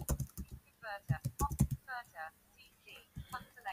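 Typing on a computer keyboard, quick bursts of close key clicks in uneven clusters, interleaved with a person talking.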